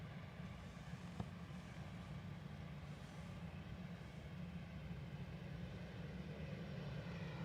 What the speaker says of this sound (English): Really slow rollout from Aer Lingus